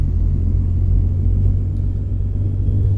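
A truck with a trailer pulling away in American Truck Simulator, a loud, steady low engine rumble and drone with no voices.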